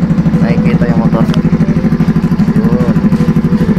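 Motorcycle engine idling steadily while it warms up, a loud, close, rhythmic putter that runs the whole time beneath a person talking.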